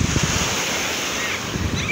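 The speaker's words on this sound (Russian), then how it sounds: "Вот такое море эгейское." Surf of the Aegean Sea washing onto a beach in Greece after sunset, a steady close rush of breaking waves with wind buffeting the microphone throughout.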